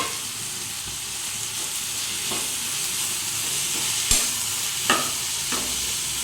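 Thinly chopped tomatoes fry in a pan, a soft steady sizzle with occasional spatula scrapes and a couple of light metallic taps toward the end.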